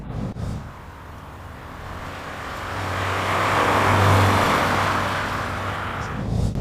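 An Alfa Romeo 105 Giulia, a classic Italian saloon, drives along a twisting road, its engine droning steadily and swelling to a louder pass in the middle before easing off, with no talking over it.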